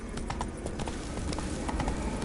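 Horse hooves galloping in the video game Witcher 3, a steady rapid clip-clop that runs throughout at close range over a low background rumble.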